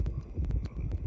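Hooves clip-clop rapidly as a horse runs in a video game, a quick galloping rhythm of short thuds at moderate volume with no voices over it.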